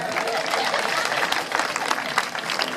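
Dense, steady applause from a crowd, continuous clapping with a broad noisy texture and no clear pauses.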